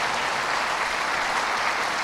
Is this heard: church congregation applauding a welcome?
yes